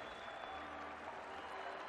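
Crowd applause and cheering from a Honkai: Star Rail cutscene, a steady dense clapping wash held at an even level throughout, with faint voices mixed underneath.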